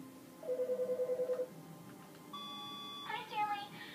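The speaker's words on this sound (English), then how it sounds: "Another phone call." A telephone rings in the video game The Stanley Parable Ultra Deluxe: a quick pulsed electronic trill of about eight beats, followed by steady ringing tones that shift in pitch. The sound is clear and close, with no talking over it.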